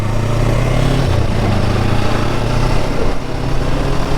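Yamaha R3 sportbike ridden off-road, its engine a continuous close, smooth drone with a steady low hum that shifts slightly partway through, no talk over it.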